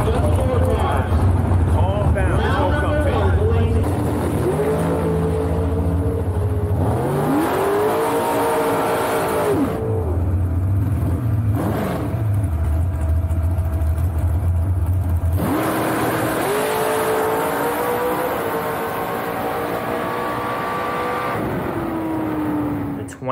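Drag racing cars at the Million Dollar Drag Race in Montgomery, engines revving loudly in repeated bursts with rising pitch sweeps and gaps between runs, with a voice talking over them.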